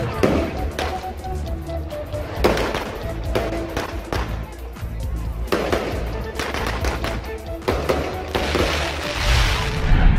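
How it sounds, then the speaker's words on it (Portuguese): Small pyrotechnic show closing a town festival in Betanzos, Spain, with sharp crackling bursts and pops repeating irregularly throughout, loud and fairly near, over a steady low rumble of crowd noise. "E para finalizar a festa, há uma pequena queima pirotécnica."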